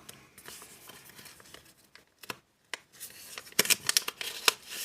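A paper surprise packet for Valentine's Day is torn and opened by hand: soft rustling, then sharp crinkling tears and crackles in quick bursts that grow louder and denser toward the end.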